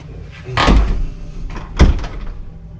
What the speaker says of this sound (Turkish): açtığımız kapıları kapatalım